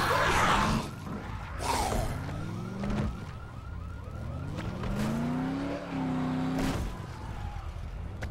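A car is driven in a zombie game, its engine whining and changing pitch as it speeds up and slows, with rising tones and a few sharp impacts over a steady road rumble.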